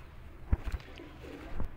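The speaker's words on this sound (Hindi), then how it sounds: "प्रिंस कमगर है ये भी कबूतर" Soft, brief cooing from a Prince Kamgar pigeon, a few low murmuring coos close by over quiet background.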